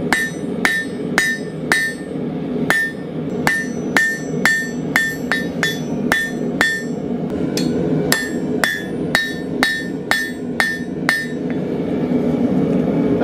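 A blacksmith hammers hot steel on an anvil while drawing out a taper: a brisk series of sharp, ringing metallic strikes, close and loud, in an uneven rhythm with brief pauses between bursts.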